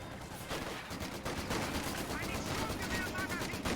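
Rapid bursts of gunfire and machine-gun fire in a Company of Heroes 2 battle, dense and continuous across the clip, with battlefield noise layered on top and a voice faintly underneath.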